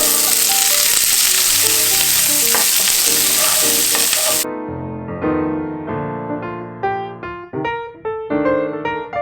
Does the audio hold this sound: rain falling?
no